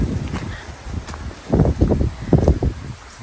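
Strong, gusty autumn wind in the Carpathian mountains, a rushing roar that swells in hard bursts through the middle and end of the stretch, buffeting close to the microphone with rustling, no voices.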